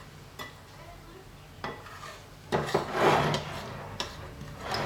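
An Oreo ice cream mixture is stirred with chocolate sauce, giving quiet scraping and clinking from the utensil against the bowl, with a few sharper knocks.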